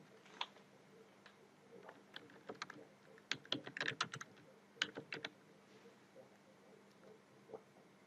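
Close keys clicking on a computer keyboard as a file name is typed, an irregular run of light taps that clusters into a quick burst in the middle before thinning out.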